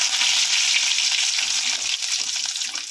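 Dried red chillies and curry leaves tempering in hot oil for a chutney, a loud continuous bright sizzle, close up and unbroken for a few seconds.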